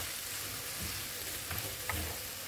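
Black pepper, crushed red chilli and salt frying in oil in a pan, a steady broadband sizzle with a few soft scrapes of stirring, close and fairly loud, no talking.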